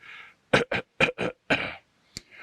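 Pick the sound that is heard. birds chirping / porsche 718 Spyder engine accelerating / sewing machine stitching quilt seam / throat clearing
throat clearing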